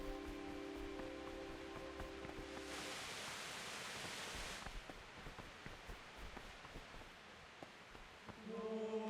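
Rain falls in the medieval video game Kingdom Come: Deliverance. A faint, steady hiss of rain swells in the middle, with low music tones at the start and end and no talk.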